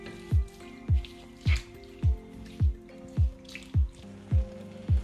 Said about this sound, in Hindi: और 1/2 ग्लास वाटर भी। और इसे फिर मिक्स कर लेंगे।